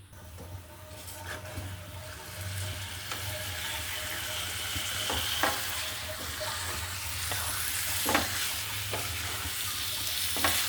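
Katla fish pieces fry in a pan with a steady, loud sizzle and a low hum running underneath. Occasional sharp pops and crackles break through, and no one speaks.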